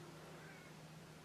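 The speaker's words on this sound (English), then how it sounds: "that's my cat being annoying there" A house cat meows softly nearby, a single drawn-out call heard faintly against a steady room hum.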